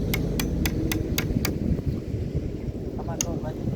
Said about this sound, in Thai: ตอกลวดจ่องเข้ามาไว้